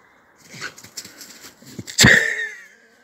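A very short-haired dog wearing a jumper under its harness in icy cold whimpers and whines in short bursts, ending in a louder close yelp-like cry.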